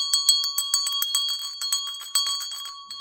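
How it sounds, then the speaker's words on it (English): A small hand bell of the jingle type rings in a steady rapid rhythm, bright metallic jingles repeating close up and loud with no talking. "Maybe you have a bell like this."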